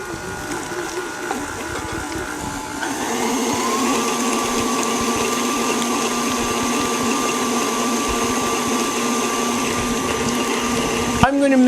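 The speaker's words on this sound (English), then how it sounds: "I'm going to mix this until it is pretty smooth" An electric mixer whirs steadily as it blends a peanut butter chip mixture with melted coconut oil and powdered sugar, holding a smooth motor drone with a rise in pitch and load partway through, then a brief clatter near the end.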